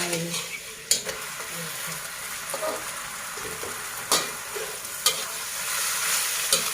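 Cabbage fries in a pan with no water added, a loud, close, continuous sizzle marked by several sharp scraping and clanking strikes of a utensil against the pan.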